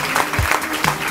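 Crowd applause for the three podium finishers of the women's slalom at the French funboard championship in Saint-Malo, a short burst of clapping with a voice briefly audible.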